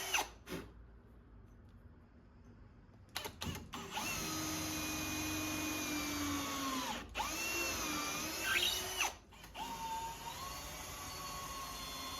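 Power drill boring pilot holes into very hard, dense wood, a loud continuous high-pitched whine that runs for several seconds, with brief stops and restarts and a changing pitch as the bit bites in.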